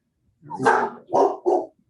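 A dog barks three times in quick succession, close and fairly loud, the first bark longest, against an otherwise silent background.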